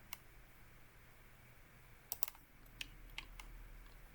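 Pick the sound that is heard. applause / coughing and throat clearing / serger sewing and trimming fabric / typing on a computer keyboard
typing on a computer keyboard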